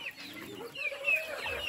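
Chickens on a farm cluck and chirp softly nearby in a short burst, with small bird-like calls overlapping.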